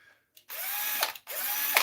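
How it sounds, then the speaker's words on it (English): A handheld power drill runs in two bursts of steady whirring, each starting with a rising spin-up and ending abruptly, close and fairly loud with a short pause between, no talk. "Drill bits a-blazing, guys."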